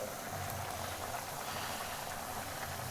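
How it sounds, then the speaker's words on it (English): A faint, steady bubbling hiss of rice boiling in water in a pot continues without a break, quiet and close, with no voices. "I'm just boiling the rice."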